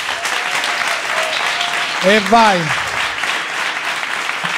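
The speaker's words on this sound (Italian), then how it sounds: "Applauso." Studio audience applause for an Italian comedy show, a burst of clapping under a host's voice, with brief whooping cheers in the middle.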